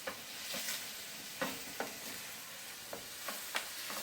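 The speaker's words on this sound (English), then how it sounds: "So the onions are cooking well." Onions cooking on low heat in a pan on an electric stove, giving a gentle continuous sizzle with several light scrapes and clicks from occasional stirring.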